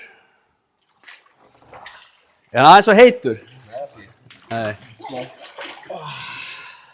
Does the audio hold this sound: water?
yes